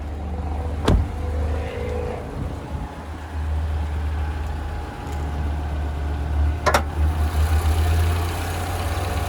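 A 2017 Toyota Camry engine idles steadily under the open bonnet with a low, even rumble, close by, with a couple of brief clicks, no knocks and no talking.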